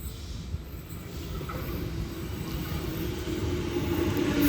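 Sydney Trains passenger service on the Homebush line pulling into platform 3 at Stanmore: a low, rumbling approach that steadily grows louder over a few seconds, heard from the platform without talk.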